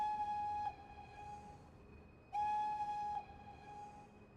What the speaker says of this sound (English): Yes, there is echo on the whistle.